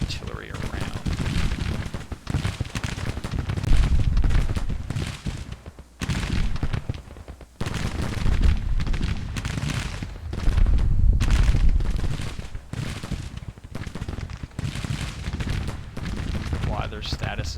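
Volleys of musket and artillery fire from advancing Confederate troops in a Civil War strategy game, loud rolling bursts of shots that come in waves with short lulls, under a voice talking over them.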